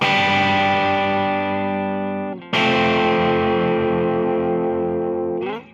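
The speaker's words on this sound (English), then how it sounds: "trying to get these sort of distorted Strat tones" Two long, heavily distorted electric guitar chords in a Strat-like tone ring out and slowly decay, the second struck after a short break, loud and sustained with no voices.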